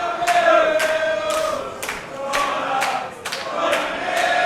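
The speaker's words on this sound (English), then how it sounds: "And the fans in the garage showing their appreciation" A lively crowd at a pro wrestling show held in a garage cheers loudly, with rhythmic bursts of clapping or stomping roughly every half second over a continuous murmur.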